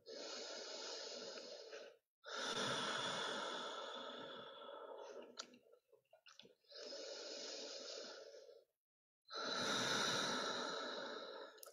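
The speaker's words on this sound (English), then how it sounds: "Take one more cycle of breath." Slow, deep yoga breathing heard up close, long drawn inhales and exhales in a calm alternating rhythm, four full breaths with short pauses between, soft and unhurried, with no talking.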